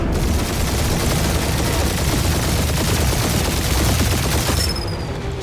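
Sustained loud gunfire from ship-mounted guns in the video game Marvel's Guardians of the Galaxy, a dense continuous barrage that cuts off near the end, followed by a brief whooshing tone.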